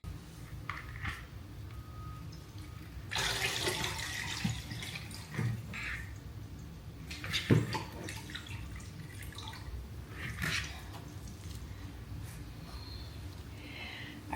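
Water poured into a Christmas tree stand in a cozy home corner, with soft splashing and trickling that swells for a few seconds midway, plus scattered drips and small knocks, fairly faint and close.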